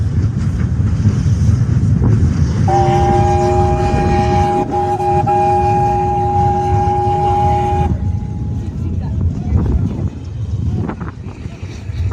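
A long, steady train whistle blows for several seconds over a loud, rumbling engine as a heritage steam train starts in Wadi Rum, Jordan; the rumble continues after the whistle stops.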